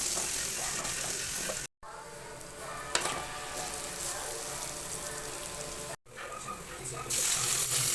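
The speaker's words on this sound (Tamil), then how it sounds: "அப்புறம் வீட்டு மிளகாத்தூள், மஞ்சள் தூள், கரம் மசாலாலாம் போட்டு நல்லா மிக்ஸ் பண்ணிக்கிறேன்" Chili powder, turmeric and garam masala are stirred into an onion-tomato gravy in a pan, making continuous sizzling with stirring scrapes and brief clinks, broken by two short dropouts.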